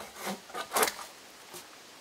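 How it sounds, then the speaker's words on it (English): Silky pruning saw cutting through a tree branch, a few soft rasping strokes with one louder stroke in the middle, close and quiet. "it actually feels like it's not cutting, but it really goes through quite quickly."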